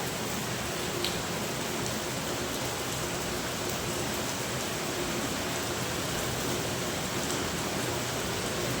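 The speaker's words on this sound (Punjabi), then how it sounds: "ਉਧਰ ਮੀਂਹ ਨਹੀਂ ਹਟਣ ਦਾ ਨਾਂ ਲੈ ਰਿਹਾ" Steady, even rain hisses continuously throughout, a dense wash of drops with no voices and no break in the downpour.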